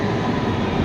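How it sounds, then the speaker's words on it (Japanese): Barcelona metro train pulling into an underground station on the line toward Sagrada Família, a steady broadband rumble and roar of the arriving cars with no talk. "この電車に乗ってねサグラダ・ファミリア駅行きます"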